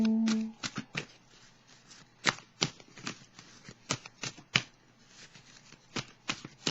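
Tarot cards are shuffled by hand in a quiet room, giving a run of soft, close riffling snaps and flutters at an uneven rhythm, with no voices.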